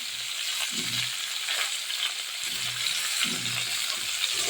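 Constant close sizzle of cauliflower and potatoes frying, with a few soft low thumps of stirring in between.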